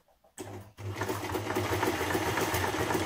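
A domestic sewing machine stitches a buttonhole on a ladies' shirt, starting after a brief quiet with a short burst, a pause, then a steady close motor hum with rapid rhythmic needle chatter.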